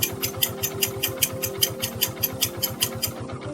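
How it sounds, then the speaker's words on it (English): A motorcycle engine idles steadily after an electric start, warming up for an oil-level check; a close, even, rapid thumping pulse runs throughout with no talking. "Let the engine run for 5 minutes."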